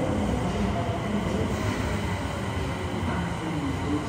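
Inside a crowded train in Osaka while riding, a constant loud rumble of wheels and carriage noise fills the space with a steady broadband roar, without talk.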